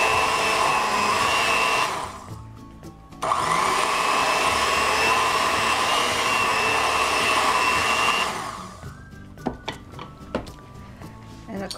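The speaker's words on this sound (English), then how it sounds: "I added some more flour and then I mix it in a little bit before I start the" A stand mixer kneading Easter braided bread dough runs with a loud, steady motor whine, cuts out briefly and starts again, then stops, leaving scattered knocks and clunks of kitchen handling.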